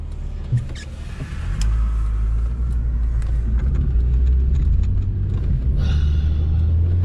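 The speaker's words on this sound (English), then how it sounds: "Quite a nice bit of traffic." Road traffic on U.S. 82 highway near the old 82 junction in Greenville, Mississippi, a steady loud low rumble of passing vehicles throughout, close by, with no talk.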